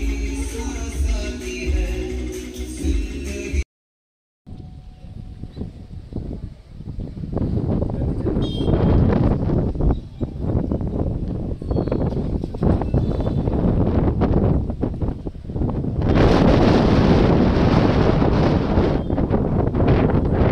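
A boat ride on a lake in fog with strong wind buffeting the microphone, a steady rushing roar after a brief dropout, with faint voices underneath.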